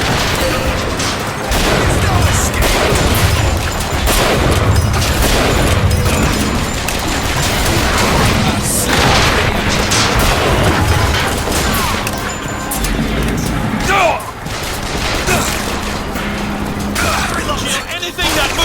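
BioShock Infinite combat erupts with rocket explosions and gunfire, a dense, loud barrage of blasts, crashes and metallic impacts running nonstop, with voices mixed into the chaos.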